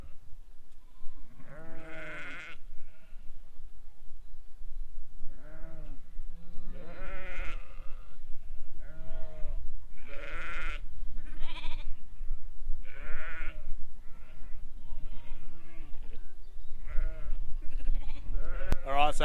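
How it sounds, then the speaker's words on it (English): A mob of sheep bleats repeatedly while being rounded up on a farm, many overlapping calls near and far with a steady low rumble underneath, no talk. "So now we're just going to head out and round up a mob of sheep"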